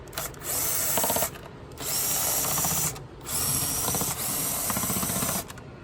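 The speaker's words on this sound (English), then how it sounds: "These are captive screws, meaning they're not going to come out once you unthread them from the bottom part of the airbox." Captive screws are unthreaded from the bottom of the airbox on a 2001-05 Honda Civic 1.7L, apparently with a power driver, giving three or four loud whirring bursts of about a second each, separated by short pauses.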